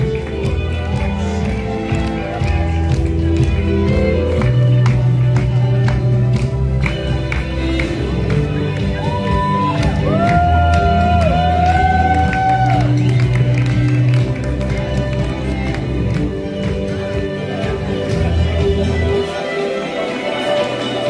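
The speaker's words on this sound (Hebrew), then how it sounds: "כפיים לשושבינים והשושבינות, אורחים יקרים." Wedding guests in Hadera, Israel applauding and cheering for the bridesmaids and groomsmen, a continuous mass of clapping and crowd noise over loud music, with an MC's voice heard briefly.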